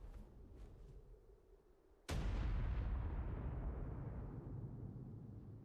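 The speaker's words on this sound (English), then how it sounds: "I'm hearing explosions." A sudden loud blast hits partway through, then a long rumbling decay, preceded by softer distant booms; explosions in ARK: Survival Evolved (Primal Fear mod, Lost Island map), no voices.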